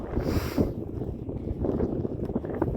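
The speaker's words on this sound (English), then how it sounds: "Very, very windy and windswept." Steady roaring wind on open high ground in the Yorkshire Dales buffets the microphone, a low continuous rush with gusty swells and no voices.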